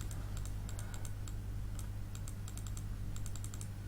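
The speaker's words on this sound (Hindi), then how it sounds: "ये माउस क्लिक।" A computer mouse clicks repeatedly at a desk, in sharp light clicks that come in quick bunches and single taps over a steady low electrical hum, with no voices.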